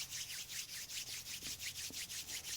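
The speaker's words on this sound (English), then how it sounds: "start to rub the palms of the hands." Palms of the hands rubbed together during a quiet yoga practice, a soft rhythmic swishing of about a dozen close strokes in a steady back-and-forth pattern with no voices.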